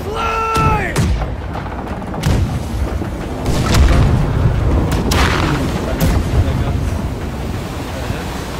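Booming ship cannon fire in the Blackwake naval battle game, several heavy blasts spaced across the scene over a constant wash of waves and wind, with brief shouted voices mixed in.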